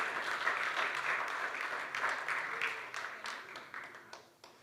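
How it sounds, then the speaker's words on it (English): An audience at a Sunday service gives a sustained round of applause honoring 25 years of service, a dense wash of many clapping hands that tapers off gradually toward the end. "So a round of applause, please, for 25 years."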